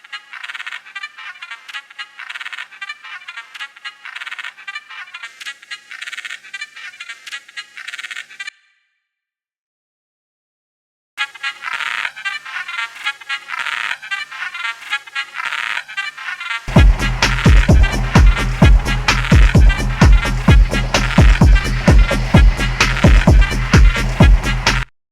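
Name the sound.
techno sound with looped markers varied in speed, stereo widening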